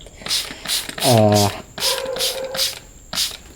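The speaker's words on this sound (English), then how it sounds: "I'm just going to spray hydrogen peroxide" Several short bursts of hissing spray from a bottle of hydrogen peroxide onto the roots of a Sansevieria trifasciata plant, each pump a quick misty spritz, alongside a mechanical clicking and a brief tonal squeak.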